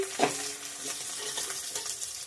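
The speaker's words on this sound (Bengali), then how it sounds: "পেঁয়াজটা ভাজা ভাজা হয়ে গেছে" Onions and garlic frying with bay leaf in a pan for a prawn and taro-stolon curry, giving a steady close sizzle with soft stirring scrapes and a slightly louder burst near the start.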